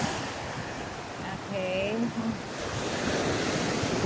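Strong waves at high tide on a Batangas beach in the Philippines, a continuous rushing surf with wind buffeting the microphone, while a voice briefly speaks partway through.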